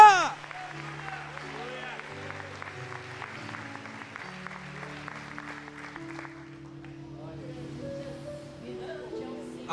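A church congregation claps in a quick, steady rhythm over keyboard music and sustained tones after a pastor's call. The claps are moderate and fade partway through, leaving the music.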